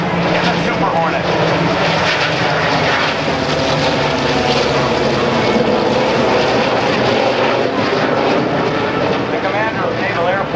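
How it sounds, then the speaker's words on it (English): A Corsair and a Super Hornet fly past at a naval air station airshow, filling the air with a loud steady roar of propeller and jet engines while an announcer speaks over the noise. "Dan McCue in the Corsair, Matt Niswan and Tim Walsh in the Super Hornet."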